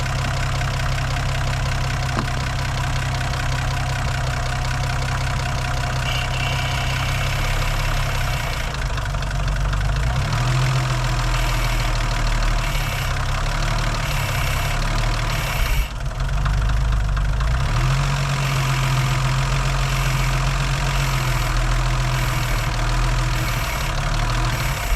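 A Toyota Supra engine idles steadily for the whole stretch, a loud low rumble with a few slight dips and surges in pitch, running alone without any talking.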